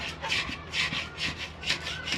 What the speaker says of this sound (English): Take your spatula. Give it a nice cleaning on the body bit.